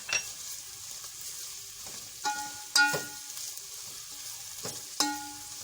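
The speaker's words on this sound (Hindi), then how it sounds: "इसको थोड़ी देर प्याज को मैं ट्रांसपेरेंट होने तक चलाऊंगी।" Onions and whole chillies sizzle steadily in a hot pan with garam masala, broken by several clattering spoon strokes and scrapes as they are stirred, heard close up without voices.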